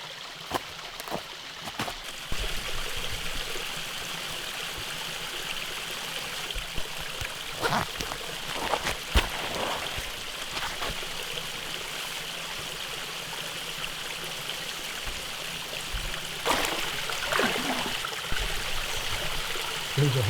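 A woodland waterfall and stream in fall rush in a steady, broadband wash of flowing water, continuous and fairly close, with a few brief louder splashes.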